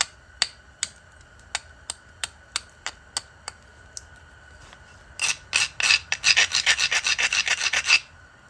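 A flint edge is abraded to set up a knapping bevel: a run of about a dozen sharp, evenly spaced scraping strokes, then a denser burst of quick raspy rubbing, close and fairly loud, with no talking.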